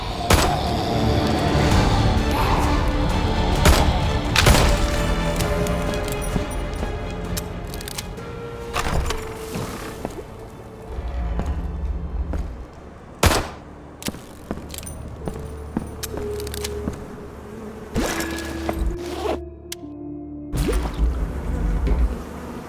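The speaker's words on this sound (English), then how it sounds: "I can't open the lock without the key. I have to shoot it off." In the game Bunker 22, a gun fires at a lock to break it off, with sharp loud shots standing out over a droning ambient score, then metallic clanks and quieter rattles.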